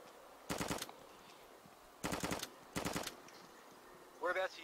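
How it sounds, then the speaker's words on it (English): Automatic gunfire in the DayZ survival game, three separate bursts of rapid shots at moderate distance with a brief voice-like sound near the end. "Shit, someone's firing."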